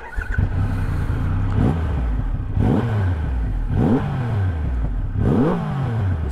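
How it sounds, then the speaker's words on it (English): A Triumph Rocket 3 cruiser motorcycle's large engine idles loudly and close by, with a deep rumble. It is blipped through four sharp revs that rise and then fall back at regular intervals. "Let's fire her up."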